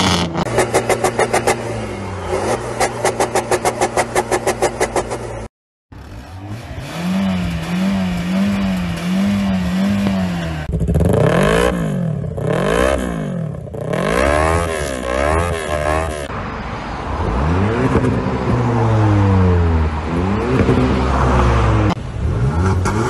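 Loud, noisy modified cars rev their engines during a traffic inspection, with repeated rising and falling roars and sharp throttle blips, close by and sustained, broken by one brief silent gap.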